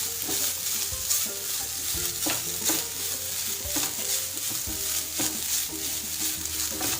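Grated coconut frying in hot ghee, a steady continuous sizzle with repeated scraping stirs of a spoon against the pan, close and fairly loud, with no voices.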